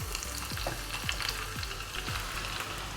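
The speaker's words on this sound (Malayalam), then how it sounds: "വെളിച്ചെണ്ണ നല്ല പോലെ മൂത്ത് കഴിഞ്ഞാലേക്ക് ഉള്ളി ഇട്ട് കൊടുക്കുക." Onions sizzle and crackle steadily in hot coconut oil in a pan, with a dense, continuous fry and soft stirring scrapes recurring about every half second, close and alone.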